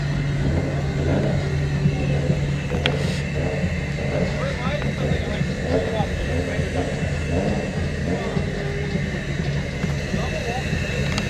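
A Toyota Supra running nitrous idles and revs with a loud, steady mid-range engine rumble, while voices talk close by over it.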